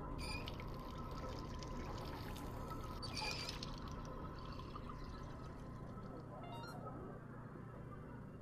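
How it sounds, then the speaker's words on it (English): Water pours steadily into a pot in the Job Simulator video game, a continuous soft splashing trickle under a low background hum with faint clinks. "they all start with putting some water in the pot"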